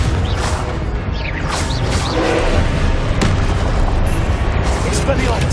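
Confringo blasting spells from Hogwarts Legacy erupt in a dense run of booming explosions, one after another, with a voice calling out over the barrage.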